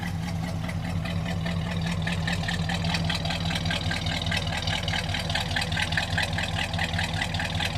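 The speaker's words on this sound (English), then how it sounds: "Idle's nice and smooth." A 1969 Pontiac LeMans V8 idles steadily, a smooth continuous low rumble with an even pulsing beat, heard close from behind the car with no talking.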